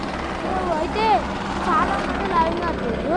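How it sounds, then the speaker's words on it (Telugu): A helicopter near Kedarnath gives a steady, loud rotor drone, with a shifting whine rising and falling overhead as someone talks under it in heavy rain. "అక్కడ ఫ్రెండ్స్ ఇంకోటి ఇట్లా వస్తుంది హెలికాప్టర్"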